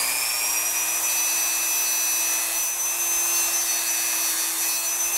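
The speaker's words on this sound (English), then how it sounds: "I'm going to just take my Dremel, cut it off" A Dremel rotary tool cuts through the edge of a resin coaster with a continuous high-pitched whine, loud and steady throughout at close range.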